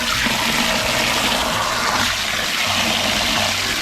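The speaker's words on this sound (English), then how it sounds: "Let me put some water in this" Water splashing and pouring steadily into a container for oxygen, a continuous rushing, gurgling flow close by with a low rumble underneath, with no talk.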